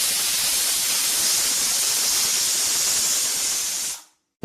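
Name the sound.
pressure cooker hissing steam while cooking jackfruit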